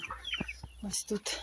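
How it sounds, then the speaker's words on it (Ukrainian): Hens cluck in short bursts close by, with a person speaking briefly over them in an outdoor yard. "Курочки гуляють."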